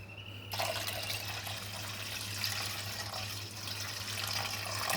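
Wheat flour dough is washed in water, with a close, steady rush and slosh of liquid running and churning in a bowl, preceded by a brief quiet moment and a constant low hum beneath.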